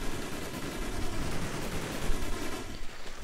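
Rapid bursts of automatic gunfire in the video game Call of Duty Black Ops, dense and continuous with crackling shots overlapping throughout, with no voices.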